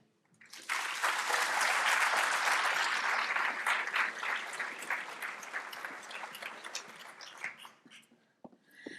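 An audience applauds steadily as a speaker is welcomed to the podium at a speaker series event: dense, sustained clapping swells in at once and holds, then thins and fades near the end.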